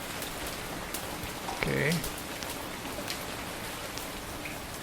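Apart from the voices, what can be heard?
rain in the video game Dagon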